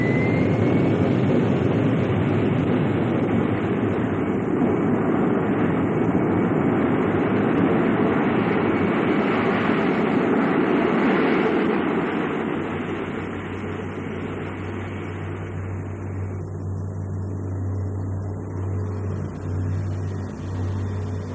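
Rocket takeoff effect in a Disney space flight simulation: a loud, continuous rushing roar with a faint high whine, holding steady for a long stretch then easing slightly but continuing, no voices.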